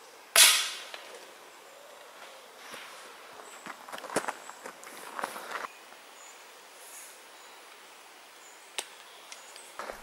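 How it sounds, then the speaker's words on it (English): A single sharp airgun shot cracks out at a pigeon near the start, followed by quiet outdoor ambience with faint rustles and small ticks. "he can take the time to place his shot precisely"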